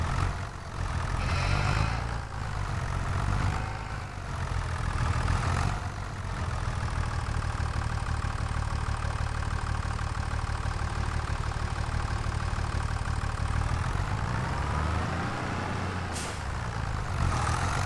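A forklift engine in the video game Farming Simulator 25 holds a steady, loud mechanical drone for the whole stretch, with brief hissing bursts near the start and end and no talking.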